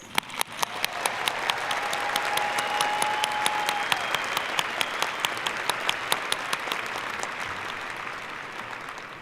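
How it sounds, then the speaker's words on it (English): A large audience at a graduate degree commencement ceremony applauds for the graduates, sustained dense clapping with some sharper individual claps standing out, steady throughout and easing slightly at the end. "Please join me in a round of applause to honor and congratulate all of our graduates."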